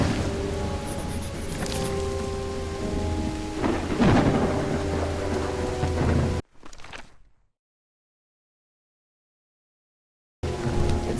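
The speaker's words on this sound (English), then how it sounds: "It's raining cats and dogs here." Heavy rain in Call of the Elder Gods pours steadily with a rumble of thunder, then cuts abruptly to silence before the downpour resumes.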